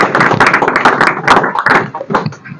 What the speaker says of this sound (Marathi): याच्यासाठी सर्वांनी जोरात टाळ्या वाजवायच्या आहेत